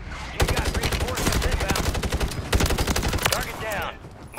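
Heavy automatic gunfire in a first-person video game shooter, a loud, dense stream of rapid shots broken by short bursts, with a voice faintly talking underneath.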